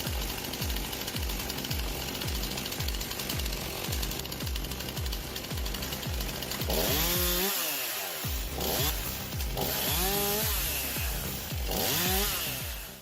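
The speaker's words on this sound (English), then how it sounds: "you won't need to do much other than hold the branches and place them into the cutting blade" Homemade automatic firewood processing machine with a cutting blade chopping branches, a loud, steady rapid pounding of cuts with a harsh motor whine and repeated sweeping saw strokes through the wood.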